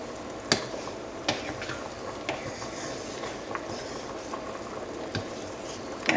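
A pot of tomato sauce with meatballs for Cuban-style spaghetti is stirred, giving soft bubbling and simmering with several sharp spoon knocks against the pot, close by and with no talk.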